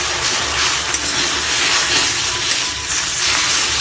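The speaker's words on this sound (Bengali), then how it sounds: "তেলটা গরম হয়ে গেছে এবার এর মধ্যে ডিমটিকে দিয়ে দিচ্ছি" Beaten eggs hit hot oil over a high gas flame and fry in a loud, steady, broadband hiss and sizzle that holds throughout, with slight crackling swells and no talk.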